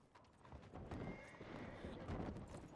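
A horse in the Western role-play game WildRP, pulling a four-horse wagon, neighs and whinnies over the clatter of clopping hooves, fairly faint and busy, with a voice faintly in the background.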